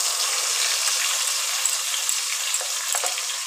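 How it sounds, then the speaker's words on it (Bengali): Spice paste poured into hot oil for aloo dum and sizzling steadily, a dense, loud, even frying hiss that runs unbroken with no voices over it. "সেটা আমি ঢেলে দিয়ে দিচ্ছি তেলের ওপর,"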